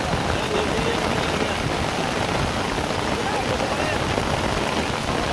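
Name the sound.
heavy rain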